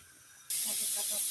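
Bay leaves and cumin seeds dropped into hot oil for Punjabi-style chole burst into a loud, steady sizzle after a brief quiet moment, the hiss holding strong to the end.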